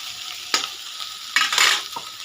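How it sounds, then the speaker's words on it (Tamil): Vegetables for vendakkai (okra) pachadi sizzle in a hot pan as a spoon stirs them, with a few scraping strokes and bursts of crackling hiss. "இது வதங்கட்டும்."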